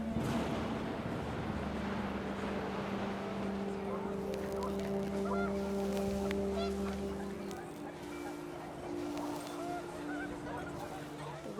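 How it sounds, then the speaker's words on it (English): Panicked geese honk in the video game What Remains of Edith Finch as the wind picks up, their calls rising over a steady, droning windy backdrop. "The wind picked up, and panicked geese appeared and quickly went."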